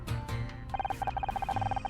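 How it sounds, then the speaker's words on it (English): A phone rings in the video game Murder by Numbers: rapid electronic trilling bursts in a steady repeating pattern, clear and close, after a short lower tone at the start. "1 second, I think that's my phone."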